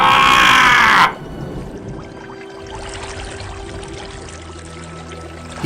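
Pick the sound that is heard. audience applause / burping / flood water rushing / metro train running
flood water rushing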